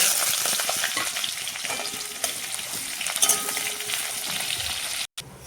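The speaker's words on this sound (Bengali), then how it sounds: "পেঁয়াজটা ভেজে নিব" Onion frying in a pan with dried red chilli, cumin, cardamom, clove and cinnamon, a steady close sizzle with occasional stirring scrapes, continuous and alone.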